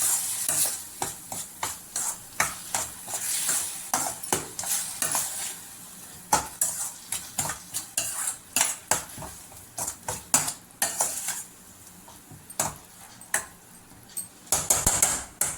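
A spoon scrapes and knocks repeatedly against a pan as pumpkin halwa cooks with melting sugar, quick irregular clinks over a soft bubbling sizzle, close and alone with no talk.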